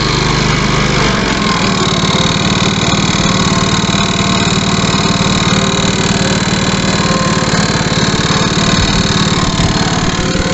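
Honda HRB535 lawnmower's petrol engine running steadily at a constant idle, loud and close, with a continuous buzzing drone and no talking throughout.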